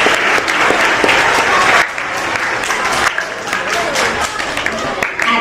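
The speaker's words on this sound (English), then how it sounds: "they deserve a round of applause just for that" A room full of people applauds awardees at an awards ceremony, loud and close, continuous clapping with slight surges and dips, and faint voices mixed in.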